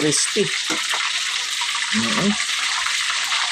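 Chicken meat frying in a pan, a bright steady sizzle filling the whole stretch while a person speaks briefly over it in short bursts.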